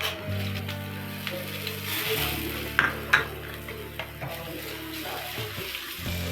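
Onions and bay leaf fry in oil for egg biryani, a moderate sizzle with a low steady hum beneath and a few sharp clinks of a spoon against the pan.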